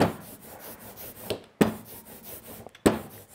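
An ink roller rolls over a thin, glossy ink film on a hand-printing slab, giving a soft, sticky, velvety rasp in repeated passes, close and quiet with no voices.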